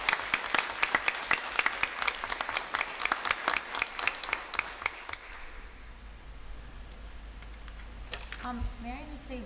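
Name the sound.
audience applause in honor of Mr. Stiefbold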